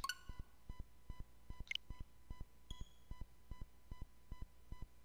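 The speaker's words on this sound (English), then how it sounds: "Now that alarm is to tell me to stop and start the recording" A phone alarm rings with a steady run of repeated electronic beeps, close and clear, with a brief brighter chirp partway through.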